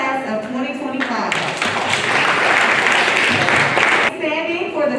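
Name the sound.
applause for the new class of 2025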